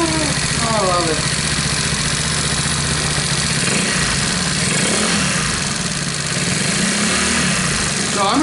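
A motorcycle fitted with a PWK carburetor idles loudly and steadily up close, a continuous rough mid-pitched engine drone with slight unevenness, and a voice briefly speaks over it near the start.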